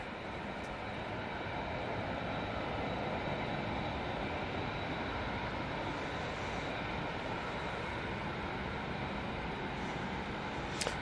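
An Emirates Airbus A380 airliner at Manchester Airport gives a steady, loud broadband roar that holds unbroken for about eleven seconds with no speech over it.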